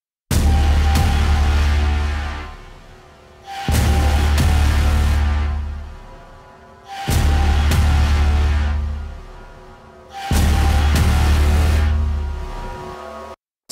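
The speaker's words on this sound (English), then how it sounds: "we got a pretty unique kind of Braam that's mixing hits, some bass, some Braams, synth and brass samples, and this crazy cymbal that's affected" Cinematic trailer braams layered with hits, deep bass, synth and brass samples and a processed cymbal, sounding as four loud, sustained booming blasts about three seconds apart, each swelling and decaying before the next.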